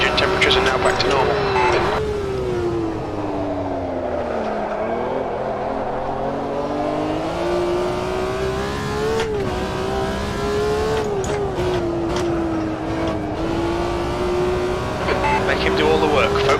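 A BMW M1 Procar racing at Jerez in the AMS2 sim, its engine droning steadily and rising and falling with gear changes and throttle, loud and continuous throughout.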